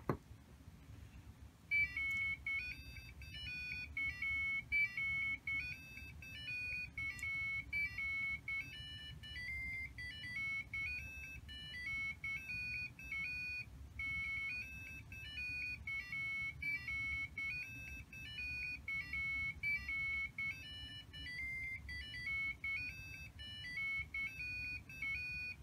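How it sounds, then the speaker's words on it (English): Arduino piezo buzzer beeping out a tune as a steady run of thin, bright electronic tones in a quick rhythmic melody, sounding alone over faint background hiss for the whole stretch. "I'm gonna hit reset of the Arduino and begin playing."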